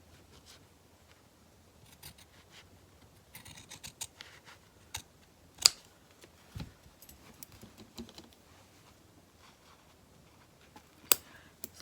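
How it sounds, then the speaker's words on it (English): Pinking shears snip along the edge of a piece of fabric in short, quiet crunching cuts, scattered and irregular, with soft handling rustles and a few sharper clicks between them. "gave it a little pinking shear cut along the edge."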